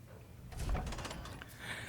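A heavy vault door in Fallout 3 opens with a low thud followed by a grinding, sliding rumble, fairly faint and brief, with no voices over it.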